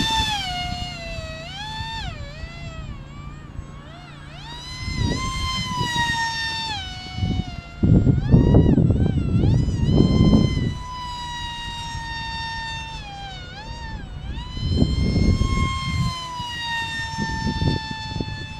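A fast FT Arrow RC plane on a 4S setup with SunnySky 2207 2100kv motors whines overhead, its high pitch rising and falling in Doppler sweeps as it makes passes, with wind gusts buffeting the microphone.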